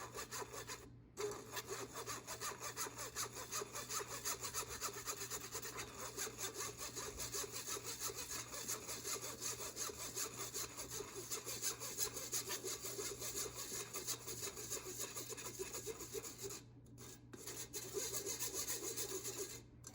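Dry baking ingredients sifted through a handheld sifter, a continuous close scratchy rasping that runs steadily, broken by a couple of short pauses, with no talk.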